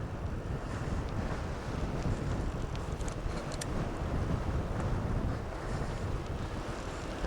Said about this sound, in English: another gale force wind